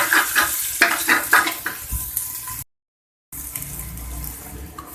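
Ginger garlic paste sizzles and crackles in a hot pan while being stirred, with scraping sounds and a brief silent gap before the frying resumes.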